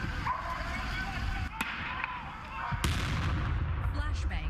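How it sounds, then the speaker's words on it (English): Sharp, loud bangs from flashbangs and gunshots crack out at intervals over a noisy outdoor background, with a dog barking and voices nearby. "Flashbangs and gunshots caught on exclusive video from our ABC affiliate WFAA."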